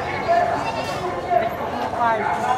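Goats bleat a few times amid people talking nearby at a livestock market in Padre Garcia, Batangas, the wavering cries rising over the voices.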